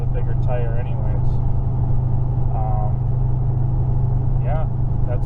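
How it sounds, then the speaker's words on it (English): A vehicle drives along with a loud, steady, low engine drone that fills the whole stretch, and a few faint wavering tones sit briefly on top. "So we'll keep driving over there and get to work."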